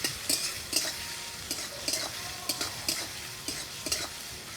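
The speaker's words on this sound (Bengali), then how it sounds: "পেঁয়াজটাকে নেড়ে চেড়ে একটু হালকা লাল করে ভেজে নেব" Chopped onion fries in hot oil in a pan while a spoon stirs it, a steady sizzle under about a dozen sharp scraping strokes at a regular pace, close and fairly loud, with no voices.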